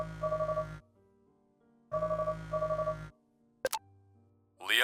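A phone rings twice in the video game Katana Zero, each clear electronic trilling ring lasting about a second, separated by silence, followed by a short click and a low tone.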